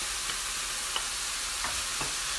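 Peppers for shrimp fried rice sizzle steadily in a frying pan over low to medium heat, a constant hiss broken by a few soft scrapes of stirring, with no voices.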